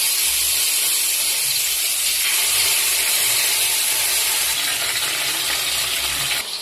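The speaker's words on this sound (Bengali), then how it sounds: "তেল গরম হয়ে গেছে, এবার আমি মাছগুলো একে একে দিয়ে দিচ্ছি।" Bhetki fish pieces frying in hot oil give off a loud, steady, dense sizzle and hiss that fills the whole stretch without a break.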